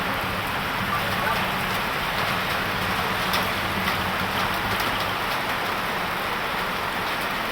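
Steady rain falls on a surface outdoors in the morning, a dense even hiss of drops that stays constant and fairly loud throughout, with no voices.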